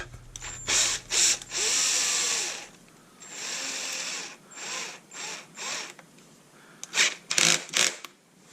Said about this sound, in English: So we're gonna get a small drill bit to start.